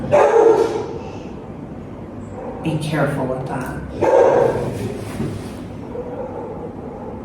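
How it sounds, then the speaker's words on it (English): A pet dog barks and yips in short bursts, with whimpers in between, mixed in with a person talking close by indoors. "One dog barks in the neighborhood,"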